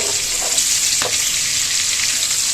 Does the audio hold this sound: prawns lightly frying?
yes